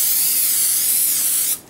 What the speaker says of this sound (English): I'm going to spray a little olive oil, Pam on it.